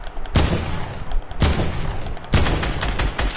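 Three loud bursts of gunfire in quick succession in the video game Fortnite, each a sharp crack trailing into rattling noise, close and loud.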